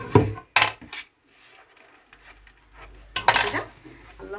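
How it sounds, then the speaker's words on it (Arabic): Dishes and cutlery rinsed in a kitchen sink after a meal: a few sharp clinks and clatters of metal and crockery in quick bursts, separated by quieter stretches with faint running water. "خلصنا نشطف مع بعض المواعين كده"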